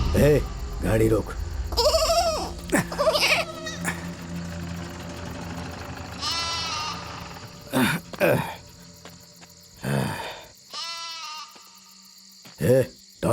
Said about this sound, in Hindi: ये बकरी यहाँ कहाँ से आ गई रे?